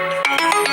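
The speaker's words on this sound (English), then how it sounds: "Sorry guys, I just have to answer the phone." A mobile phone ringtone plays loud and close, a bright electronic melody pulsing in quick repeated notes over less than a second, with no voices.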